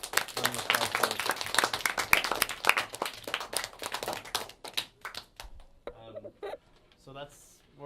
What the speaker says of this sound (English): I think we owe Mr. Harding a thorough round of applause.